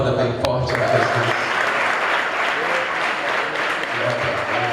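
A church congregation claps loudly together in sustained, dense applause that fills the whole stretch, with a voice heard briefly under the clapping.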